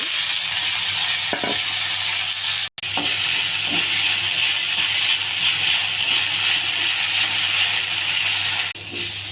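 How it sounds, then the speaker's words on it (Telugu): Fresh mint and coriander frying in a hot pan, a steady loud sizzle and hiss that runs throughout, with a brief break and a few soft stirring knocks. "ఈ పుదీనా కొత్తిమీర ఈ వేడి పెనంలో వేయాలండి."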